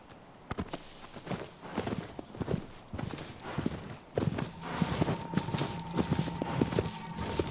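A horse's hooves clip-clop on the ground in the video game Shadow of the Colossus. The hoofbeats come at a fast, uneven gait and are fairly close, and a steady tonal hum joins them partway through.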